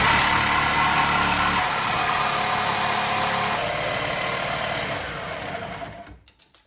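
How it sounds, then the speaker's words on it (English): A Sawzall reciprocating saw cuts metal tubing for a receiver hitch umbrella stand, a loud continuous buzzing rasp that keeps an even level for about six seconds, then fades and stops at the end. "I got old Mr. Sawzall and just go easy and hopefully this will do a decent cut."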